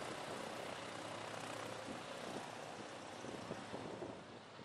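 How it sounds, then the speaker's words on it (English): A 1940 Waco UPF-7 tail-dragger biplane taxis with its radial engine and propeller droning in a steady, loud, broadband rumble that eases slightly at the end. "As they taxied off to refuel, the Wacos had to weave back and forth"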